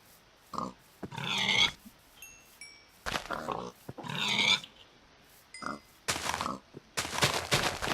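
Pigs being hit in the video game Minecraft give repeated loud, squealing grunts in short bursts, about five or six in quick irregular succession with brief gaps between, close and clear, mixed with small game sound effects and no talking.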